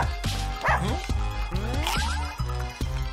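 Game dogs in Russian Subway Dogs bark and yip repeatedly over a rhythmic game soundtrack with bouncy notes, short cartoonish barks popping up several times amid the music.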